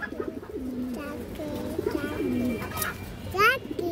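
Highflyer pigeons coo close by in repeated low, rolling phrases, with a brief higher chirping call near the end and faint talk in the background.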